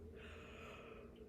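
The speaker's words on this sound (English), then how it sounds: "the reason I'm not going to edit out that yawn that I just had" A single close, drawn-out human yawn, a breathy airy exhale held for over a second at low level, with no talk.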